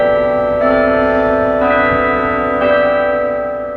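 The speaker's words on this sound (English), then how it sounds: "Trinity Hall, which houses the bell tower that goes off every hour and half hour." A campus bell tower at Trinity Hall on the CSU Chico campus ringing loud, sustained chimes, with three successive strikes blending into a rich ringing tone and no talk.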